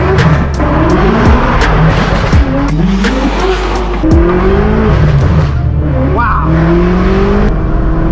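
An 800-horsepower manual BMW M6 Gran Coupe with a loud exhaust roars close and very loud, its engine climbing and dropping through repeated rev sweeps with sharp cracks and tire-like squeals.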